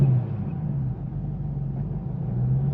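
A cammed Ford Mustang engine with Kooks exhaust, a 2014 GT500 or 2008 Bullitt, idles with a steady low rumble and a slight rise in the middle, heard close up with no one speaking.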